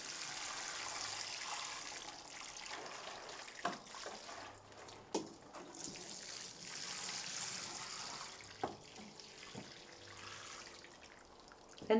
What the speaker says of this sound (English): Make sure you water very well until they are well soaked.